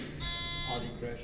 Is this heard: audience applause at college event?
no